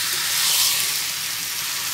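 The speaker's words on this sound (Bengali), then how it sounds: "দিয়ে এবার সুন্দর করে এটাকে কষিয়ে নেব।" Ash gourd sautéing in a pan with cumin and coriander paste, a constant close sizzle and hiss with faint stirring, heard alone with no voices.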